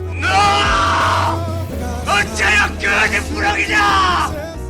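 A man yells out in pain, several loud, drawn-out anguished cries close up, with the voice straining and breaking between shouts.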